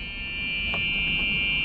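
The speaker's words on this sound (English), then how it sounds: "that's the reverse beeper" A golf cart's reverse beeper gives a steady, high-pitched electronic tone that holds at an even, moderate level over a low background rumble. No one speaks.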